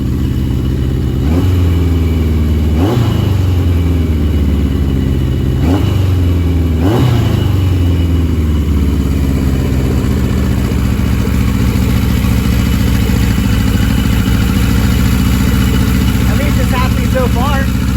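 Engine of a barn-find 1982 Yamaha Maxim XJ750 motorcycle, running with little fuel: four sharp revs in the first seven seconds, then a steady, fairly loud idle that creeps faster, close to the mic.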